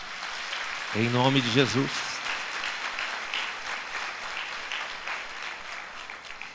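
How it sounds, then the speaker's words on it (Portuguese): Congregation applauding during a Portuguese-language church service, someone speaking briefly over the start before the clapping carries on alone as a steady, moderately loud wash of hands. "Dá um aplauso ao Senhor."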